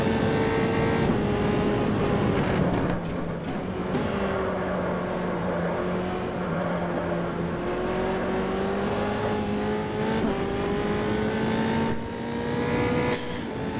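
A Formula 3 race car in the Automobilista sim at Santa Cruz do Sul, its loud engine drone rising and falling in pitch throughout with a few brief dips and rough stumbles.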